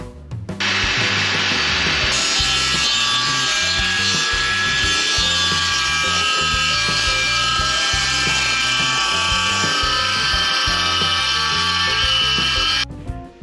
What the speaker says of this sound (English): we can bring them back over the table saw here and cut them to our appropriate width